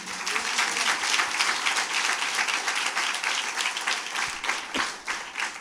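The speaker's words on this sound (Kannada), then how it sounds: "ಅದು ಜೋರಾಗಿ ಹೊಡಿಬೇಕು ಚಪ್ಪಾಳೆ." Loud, sustained clapping from a church congregation at a Sunday service, a dense wash of many hands that runs steadily from start to finish with no voices over it.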